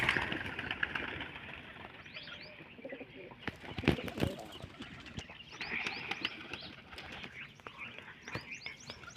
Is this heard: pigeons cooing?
yes